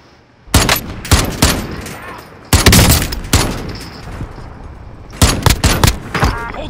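Gunfire in Modern Warfare Warzone comes in loud, close bursts of rapid shots separated by short pauses, with a sharp volley at the start, another midway and a final cluster.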